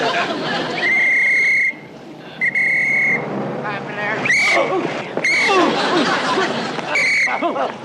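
A traffic officer's whistle gives several sharp, steady shrill blasts that come in bursts, set among lively street chatter, passing traffic and crowd noise in a comedy scene.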